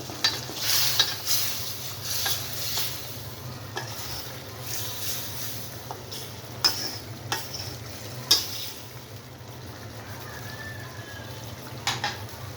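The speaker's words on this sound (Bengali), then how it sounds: "এখন আমি এর মধ্যে টমেটো দিয়ে দিব। দিয়ে এটা নেড়ে দিব।" Steady sizzling of tomatoes frying in a pan for rohu fish curry, punctuated by intermittent scraping and clinking as a utensil stirs, fairly close and moderately quiet.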